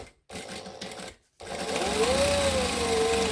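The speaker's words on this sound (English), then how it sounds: "And I'm just gonna top stitch along here. Now I am gonna back stitch." A sewing machine back stitches through fabric in short whirring runs separated by brief stops, then settles into a longer steady hum as the stitching continues, close and clear with no talking.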